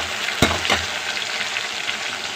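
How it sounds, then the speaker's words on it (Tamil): Mustard seeds temper in hot oil for sambar rice, making a close, even crackling sizzle with two quick utensil stirs near the start. "இன்றைக்கி சாம்பார் சாதத்துக்கு தான் தாளிச்சுக்கிட்டுருக்கேன்."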